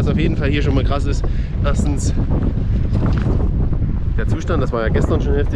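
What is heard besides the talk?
strong wind at a scrapyard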